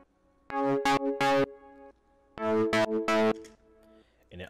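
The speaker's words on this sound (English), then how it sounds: "Just added the little distortion and the sidechaining effect, and I got this sound." A distorted EDM synth built in FL Studio plays two short sidechained phrases, each a pumping run of bright, buzzy chord stabs separated by a pause.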